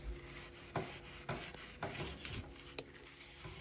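A cloth wipes a tarnished silver garden item dipped in cleaning solution, making quiet repeated rubbing strokes about every half second, close and soft, with no voices.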